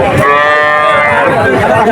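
A loud, close moo at the Shahpur cattle market, where calves and cattle are sold, long and drawn-out with a rough harmonic tone, filling the whole moment.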